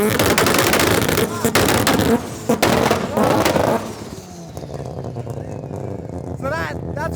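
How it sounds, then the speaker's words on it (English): A turbocharged Mazda RX-7 rotary engine revs hard and close, its loud raspy buzz broken by rapid popping and crackling bursts, then easing off to a lower drone as a person talks over it. "This car's so insane, it has that classic, like, the rotary sound"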